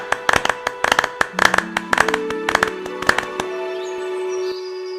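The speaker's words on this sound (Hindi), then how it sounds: "सभी अजनबी के लिए तालियां बजाते हैं।" A short burst of hand claps, sharp and close, accompanied by sustained tonal music that lingers after the clapping stops.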